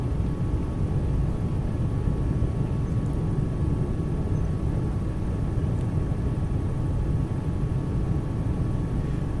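Steady, close airplane engine drone with a low rumble, idling on a runway in Microsoft Flight Simulator 2024, holding constant throughout with no talk.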